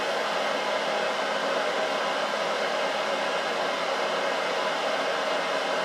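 A Grizzly G0752 metal lathe runs with its spindle turning forward, giving a steady, even motor whir with no change in pitch or level.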